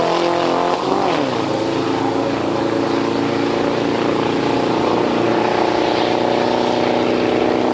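Volkswagen camper van engine idles close by with a loud, continuous rumble and a slightly uneven, misfiring beat, the tone shifting briefly near the start.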